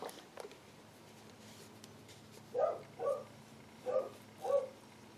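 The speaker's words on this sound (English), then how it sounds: "And that's my friendly dog barking in the background." Dog barking in the background indoors, four short distinct woofs in the latter half, moderately faint, following a quiet stretch with some light tapping.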